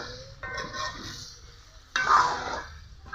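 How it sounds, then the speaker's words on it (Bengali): Mutton with biryani spices is sautéed in a pot, with two bursts of sizzling and stirring separated by quieter gaps, close and without voices. "এখন আরো ভালো করে কষিয়ে নিব।"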